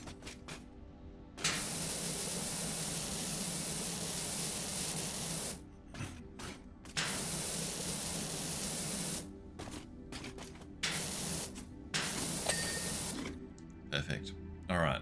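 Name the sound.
pressure washer spraying water on flames, Power Wash Simulator video game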